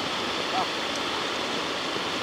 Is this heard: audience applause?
no